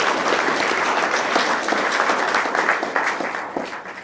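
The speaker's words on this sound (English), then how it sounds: "let's give a round of applause to the staff that helped put this on tonight" An indoor crowd at a mayoral debate in a senior center applauds the event staff, a dense, sustained round of clapping that tapers slightly toward the end.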